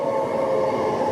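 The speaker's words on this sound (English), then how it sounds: "There's the train." Train arriving at Cannington station, a steady loud rumbling drone with a tonal hum, heard continuously and close by.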